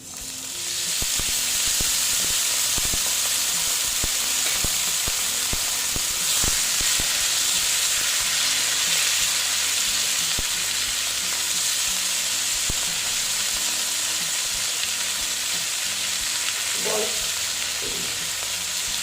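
Yardlong beans and browned potatoes fry in a pan with a steady, dense, close sizzle and hiss that holds throughout, broken by light scrapes of stirring and no voices.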